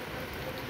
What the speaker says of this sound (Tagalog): Nag-ulan na ng yelo.